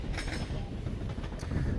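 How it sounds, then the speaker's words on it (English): A train passing near a Scottish beach, a low continuous rumble with faint rhythmic rolling and occasional metallic clinks, steady and moderately distant. "Oh, there's a train."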